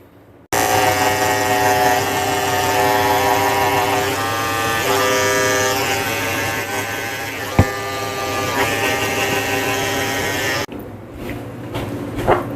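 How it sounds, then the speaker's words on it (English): Electric clippers with a 10 blade shave a Maltese dog, giving a loud, steady, close motor buzz with tonal harmonics that holds for about ten seconds, then cuts off abruptly. "Then I'm going to come with my 10 blade and shave under his tail, and I'm going to shave his"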